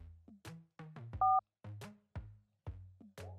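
A landline telephone is dialed as a sound effect, a quick run of separate clicks and button tones with one clear dial beep partway through, close and crisp against silence.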